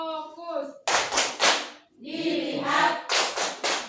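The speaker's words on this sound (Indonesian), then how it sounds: "Tepuk fokus." A classroom group chants in unison, then breaks into sharp rhythmic clapping for a focus clap, with a quick burst of three claps, more chanting, then another burst of loud, close claps.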